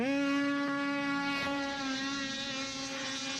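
Snowmobile engines at a Snowcross race start on Gunstock Mountain Resort drone in a loud, sustained, held rev, a steady nasal whine that eases slightly toward the end, with no talking.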